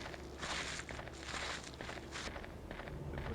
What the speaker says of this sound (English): The footsteps sound louder.